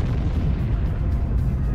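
Supernova explosion sound effect, a dense, deep rumbling roar of booming low bursts that rolls on continuously and loud throughout with no voices.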